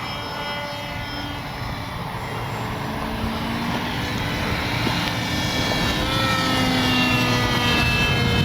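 A small RC propeller airplane, a Skynetic Dragonfly, drones steadily overhead, its engine whine holding a fairly even pitch and growing slightly louder as it comes closer.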